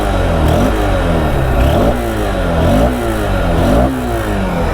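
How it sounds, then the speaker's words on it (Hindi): A 2023 Honda Unicorn 160 OBD-2 motorcycle engine is revved repeatedly up close, loud rising and falling sweeps in roughly three pulses over a steady engine rumble, with no talking. "ये इंजन का साउंड सुनो।"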